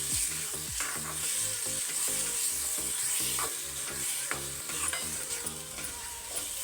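Sprouted legumes frying in a pan for sambar, a constant bright sizzle with rhythmic scraping strokes of a spatula repeating throughout, close and unaccompanied by speech.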